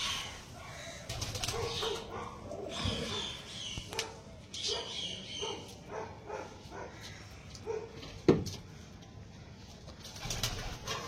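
House pigeons cooing in a home loft, soft repeated coos mixed with wing flutters and shuffling, fairly close, with a dog barking now and then in the background.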